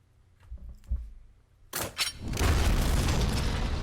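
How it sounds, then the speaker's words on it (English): An explosion sound effect in a Dungeons and Dragons tabletop session, with a sudden loud blast followed by a sustained rumbling roar after a few quieter thumps. "you then see this huge explosion happen in this general direction"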